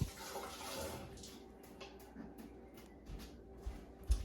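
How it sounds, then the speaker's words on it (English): A kitchen tap runs steadily while hands are washed, a soft, faint splashing hiss with a few light knocks near the end. "And I need to wash my hands."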